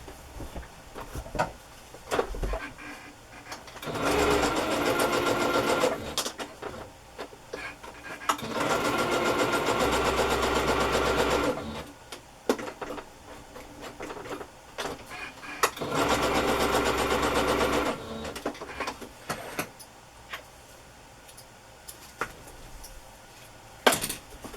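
A sewing machine stitches around a patchwork Christmas journal cover in three steady bursts of several seconds each, separated by quieter pauses with faint handling noises.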